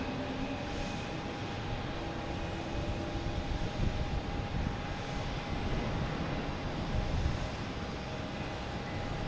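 An Airbus A300 F4 freighter at Boston Logan Airport gives off a steady, moderately loud engine drone from some distance, with a thin tonal whine riding over the rumble.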